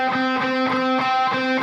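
Soft, gentle picking on an amplified electric guitar, a few light notes ringing out clearly with sustained harmonic tone, no talking.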